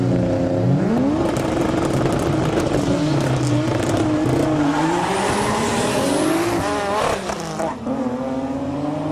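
Toyota Supras, including a JZA80 with a 3-litre 2JZ engine, accelerate hard in a Japanese street drag race, engines rising steadily through the gears at close range, loud and continuous with a brief dip near the end.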